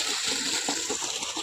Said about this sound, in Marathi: इकडं घावाला पाणी देणं चालू आहे.